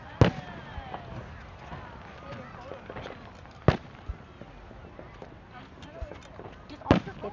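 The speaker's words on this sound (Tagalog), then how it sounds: "Tingin yung fireworks." Canada Day fireworks at Downsview Park in Toronto crack in a few sharp, distant bangs over steady crowd murmur, with people talking nearby throughout.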